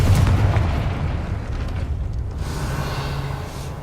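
Incendio and Confringo spells go off in Hogwarts Legacy, a deep booming burst at the start that rumbles and fades over a few seconds, with no voices.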